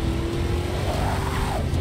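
A race car in Forza Motorsport 6 accelerates with a continuous engine drone and a rising whine, loud and steady for under two seconds.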